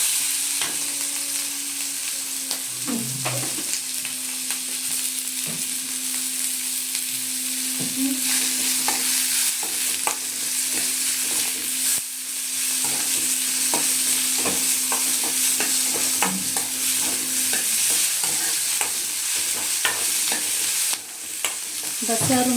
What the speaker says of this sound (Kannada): ಇದನ್ನು ಚೆನ್ನಾಗಿ ಹುರ್ಕೊಳ್ಳೋಣ. ಈರುಳ್ಳಿ ಎಲ್ಲ ಹಸಿ ಫುಲ್ ಹೋಗಬೇಕು.